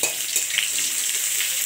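Chopped garlic and onion hit hot oil already seasoned with cumin and a bay leaf, giving a bright, steady sizzle up close, dense and continuous with light crackles and no talking.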